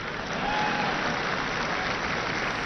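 Audience applause at a public speech by the prime minister, a dense wash of clapping that holds steady and moderately loud for a few seconds.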